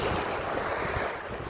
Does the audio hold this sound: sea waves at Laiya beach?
yes